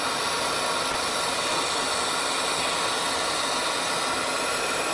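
Constant loud roaring hiss of a gas torch flame melting glass beads, steady and unbroken from start to finish.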